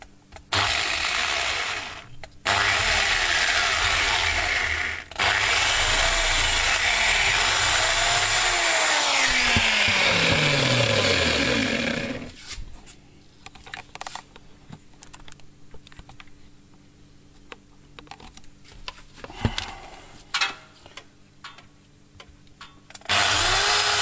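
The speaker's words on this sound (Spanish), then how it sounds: "vamos a colocar las brocas. Hacemos el primer agujero." An electric drill bores a hole in a piece of wood clamped in a bench vise, whining loudly and steadily for about twelve seconds with brief pauses, then giving way to quieter clicks, taps and handling noises.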